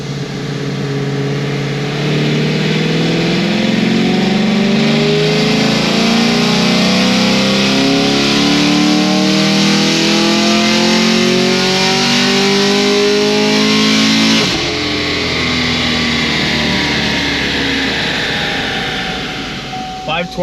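A heads-and-cam LT1 Camaro engine revs hard and climbs steadily through a long cold dyno pull, rising harmonics swelling loud for about fourteen seconds before dropping back to a rumbling idle.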